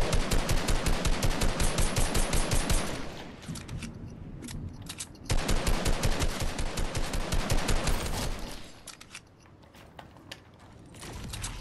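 Sustained automatic assault rifle fire in the video game Fortnite, loud rapid shots in long bursts with a short pause midway and quieter stretches near the end.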